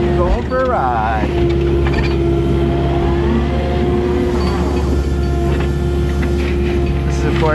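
Tracked machine trundling and turning over the ground while prepping a trench for a water feature, a loud steady engine drone with clanking tracks and a whining hydraulic tone, with a voice talking over it.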